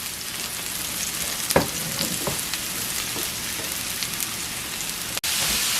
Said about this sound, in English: now that my oil is hot, I'm going to add my mushrooms, and we're going to cook this for a few minutes